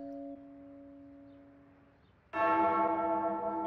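A church-style bell tone, imitated on a guitar being tuned to match the tolling opening of a song, rings alone with sustained steady pitches, then a louder, brighter strummed chord bursts in and rings on.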